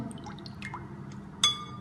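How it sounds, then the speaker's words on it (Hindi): About half a cup of water goes into a sugared dahi boondi chaat mixture, heard as a few soft drips and splashes followed by a sharp clink of the container, all close and quiet. "थोड़ा सा पानी हम इसमें और डालेंगे।"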